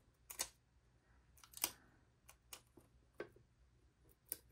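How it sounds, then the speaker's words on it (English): Scissors trimming polymer clay on glass give several quiet, crisp snips spaced irregularly, close and faint against a low background hum. "I am just taking a pair of scissors"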